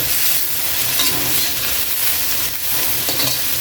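Ingredients and lemongrass sauté in a hot pan for ginisang bukaw bukaw, a continuous close, loud sizzle with stirring scrapes and no voices.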